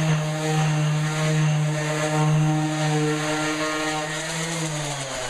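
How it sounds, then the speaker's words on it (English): A power sander works across a stained kitchen cabinet with a steady, close, high-pitched whining drone that holds even and dips slightly in pitch near the end, with no talking. "So we put this on our sander, and we set this flat on here."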